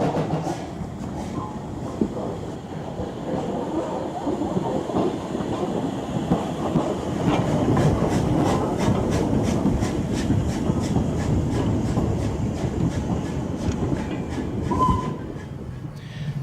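A small preserved railway engine rolls along the track, its wheels clicking in a steady rhythmic clack over a continuous rumble, with faint squeals rising briefly near the end.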